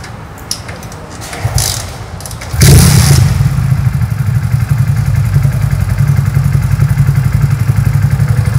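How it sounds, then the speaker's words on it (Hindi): A BS6 two-wheeler engine starts during a diagnostic check: a few light clicks and clatter, then at about two and a half seconds the engine catches and settles into a loud, steady idle. "बाइक स्टार्ट कर।"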